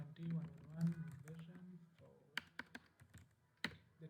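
Keys tap on a computer keyboard in a few quiet, sharp clicks after a voice, spaced irregularly across a few seconds.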